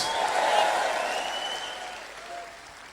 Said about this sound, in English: Everybody clap. Come on, men, clap with me.